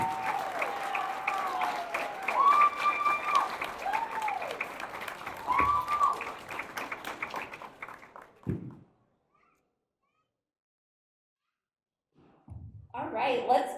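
Audience applause at a Big Brothers Big Sisters graduation celebration, steady clapping with whoops and cheers, fading to silence midway before another burst of clapping returns.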